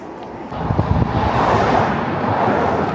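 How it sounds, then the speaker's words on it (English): Strong wind roars and buffets a microphone outdoors on a road, a loud, broad rushing that swells suddenly after a moment and stays heavy and continuous, with low rumbling gusts throughout. "the wind's crazy"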